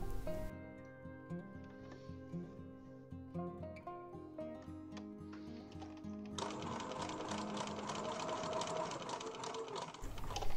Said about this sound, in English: lift the presser foot and rotate your work 90 degrees to carry on sewing